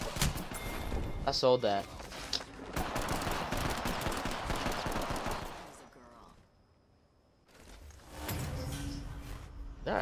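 Rapid bursts of gunfire in an Apex Legends firefight crackle loudly in clusters, then drop to a brief lull before another volley. A person talks over the shooting.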